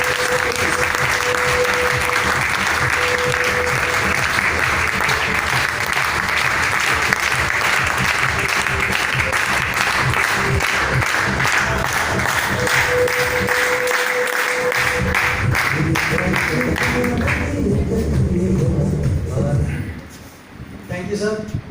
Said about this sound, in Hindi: मैं आपकी जोरदार तालियों के बीच में इनवाइट करता हूं मिस्टर भारद्वाज जी को